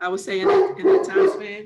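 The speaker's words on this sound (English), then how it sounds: "Sorry, that's my dog." A pet dog barks a few times close by in an indoor setting, short sharp yelps rising over a person who keeps talking throughout.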